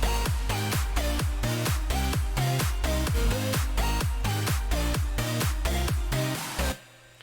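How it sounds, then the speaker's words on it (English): A loud, dense electronic music drop with pounding bass and a pumping, sidechained rhythm on every beat, cutting off abruptly near the end. "And by this point, we had a full drop."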